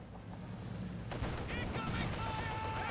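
Gunfire from a ZiS field gun in Company of Heroes 2 mixed into a continuous battle din, with a sharp blast about a second in and scattered further shots and bursts over ongoing rumble.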